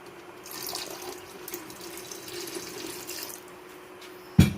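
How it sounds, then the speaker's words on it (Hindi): Water poured into a pan of masoor dal cooking over a raised flame, a steady splashing stream running for several seconds, close and alone, ending in a brief clatter. "तेज़ करने के बाद इसमें हम पानी ऐड करेंगे।"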